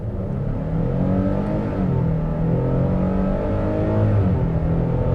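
A 2024 Nissan Frontier S pickup truck engine revs steadily higher as it accelerates, a loud continuous drone climbing in pitch with gear changes, close and with no voices.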